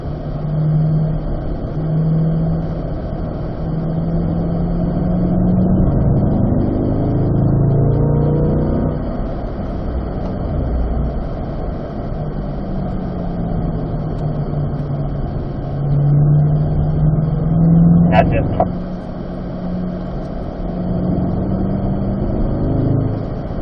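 C8 Corvettes circle a race track during a driving school session, engines droning and shifting pitch as cars pass, with a brief sharp sound near the end and no speech.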